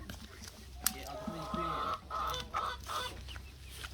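Chickens cluck softly on a farm among turkeys and ducks, with intermittent clucks and calls over a low background hum.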